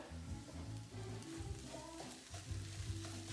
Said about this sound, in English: it's nice if you cook the spices, sort of dry cook them for a bit